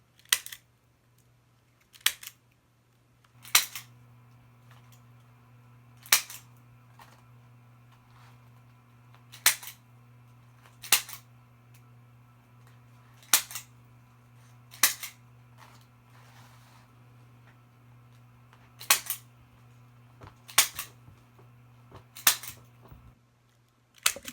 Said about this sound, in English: Let's cut these zip ties.